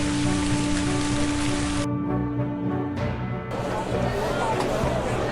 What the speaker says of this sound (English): The loud pounding of hail echoed, lasting without end